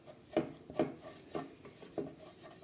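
Flour is stirred into a cream sauce for pasta in a pan on a low flame, with four slow, evenly spaced scraping strokes of a spoon against the pan, close and fairly quiet.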